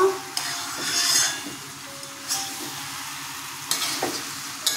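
A spoon stirs spice paste through jackfruit and potato pieces in a pan, with a few sharp scrapes and clinks against the metal over a quiet background sizzle, close up and unaccompanied by speech.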